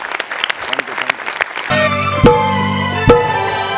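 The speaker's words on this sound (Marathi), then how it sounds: "एकदा नमा आणि प्रसादसाठी जोरदार टाळ्या" An audience at a Marathi comedy stage show claps in a short burst of applause, and then loud music starts and carries on under the fading claps.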